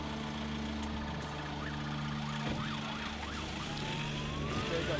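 An ambulance siren wails up and down, moderately distant, over a steady low traffic rumble.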